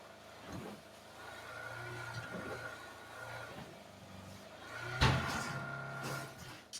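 Car engine humming steadily while driving in a survival shooter game, mid-pitched and continuous with a louder bump near the end.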